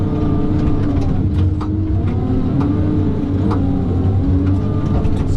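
A Tigercat 610E log skidder's diesel engine drones loud and steady up close, with a continuous low rumble and shifting mechanical tones throughout.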